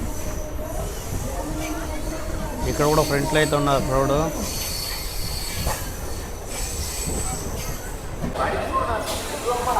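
A MEMU passenger train pulls into Tuni railway station, wheels squealing in a rising, wavering screech for a couple of seconds amid rumbling carriages and a busy platform, with someone talking over it.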